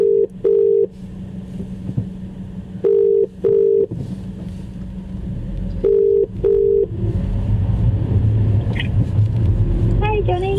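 Phone ringback tone heard while calling someone, a repeating pair of short beeps at a steady rhythm, sounding three times before background rumble and a voice take over.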